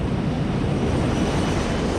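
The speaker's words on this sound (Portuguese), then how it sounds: "agora o Airbus está caindo em parafuso em direção ao solo" An Airbus airliner falling toward the ground in a spin gives a constant dense roar of rushing air and engine noise, loud and unbroken with no voices.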